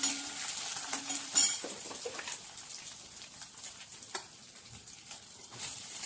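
Onion, tomato, garlic and ginger roast in a pan for a chutney, giving a quiet sizzle with occasional stirring scrapes and soft clinks of a utensil against the pan.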